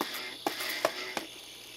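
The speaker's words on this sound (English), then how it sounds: "I was grinding the top of the platter, exactly what I knew would happen." A failed Seagate 1TB SATA hard disk with its head scraping the top of the platter, giving three sharp ticking clicks spaced about 0.4 seconds apart over a steady whirring hiss, up close.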